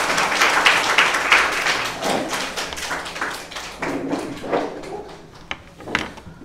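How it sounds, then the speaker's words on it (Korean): Applause from a small audience greeting a guest speaker at a mentoring talk, uneven clapping that starts fairly full and thins out to a few scattered claps and taps by the end. "우리 큰 박수로"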